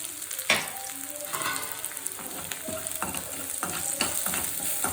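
Turmeric and salt are stirred into potatoes in a hot frying pan for vada pav, giving steady sizzling with repeated scraping stir strokes close by.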